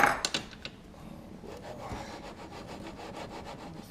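A drill fitted with a Champion Platinum Series 3/8 bit cuts into thin steel: a few sharp clicks at the start, then a steady, fairly quiet grinding and scraping with no talking.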